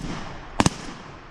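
Two quick, sharp shotgun blasts in rapid succession during a crow hunt in western New York, loud and close, followed by fading outdoor ambience.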